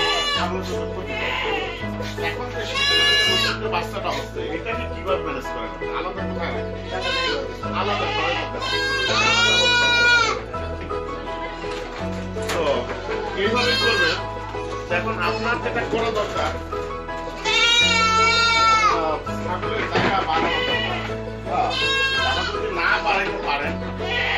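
Goats on a goat farm bleat repeatedly in wavering cries, several calls rising over a steady rhythmic backing of music throughout.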